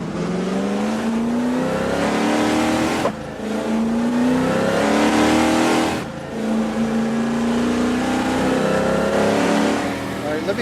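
A car engine revving hard, its pitch climbing repeatedly in three long pulls with brief drops between them. The sound is loud and close, given as a 1971 Spectre Camaro engine sound in an AMG C63.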